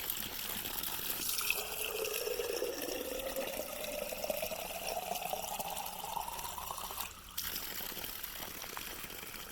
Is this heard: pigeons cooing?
no